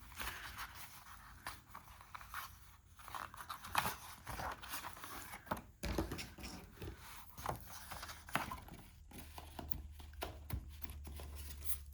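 Small scissors trim the thread ends on a Japanese diamond-stitch bookbinding, producing quiet, close snips and light rustling handling sounds scattered irregularly throughout.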